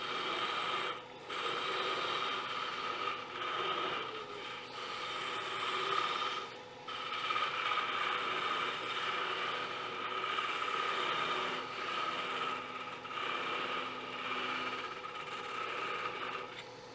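Steady metallic whirring of a lathe as a parting tool undercuts a metal workpiece, continuous and fairly loud with brief dips and small ratcheting ticks throughout.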